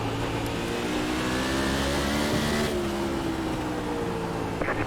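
Several sprint car engines roar around the South Boston oval in the iRacing simulator, a steady, loud, buzzing drone with shifting pitch as the cars race side by side.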